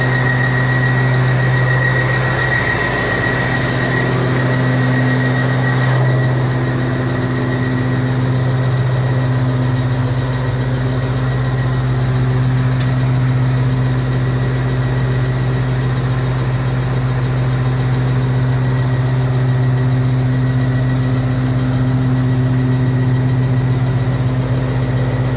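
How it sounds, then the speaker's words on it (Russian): A Kirovets K-700 tractor engine idles while warming up after an overhaul, a steady deep rumble with a constant low hum and mechanical vibration, running close and unbroken with no voices. "Завели трактор."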